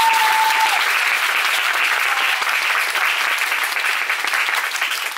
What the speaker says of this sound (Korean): 박수 한번 저희.